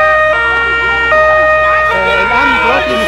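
Loud wailing siren of a fire engine during a street protest with security forces, rising and falling tones shifting pattern, with voices and crowd noise underneath.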